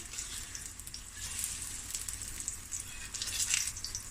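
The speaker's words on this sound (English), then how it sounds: "And I'll just carry on frying" Pumpkin fritters fry in oil in a metal pot, making a soft, continuous sizzle with scattered bright crackles and spits. The sound is fairly quiet and close, with no talking.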